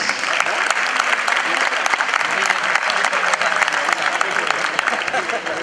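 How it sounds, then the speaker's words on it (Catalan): An audience at a Penya Blaugrana anniversary celebration applauds honorees, loud continuous clapping from a large crowd with steady density throughout. "Un aplaudiment per a ells i elles."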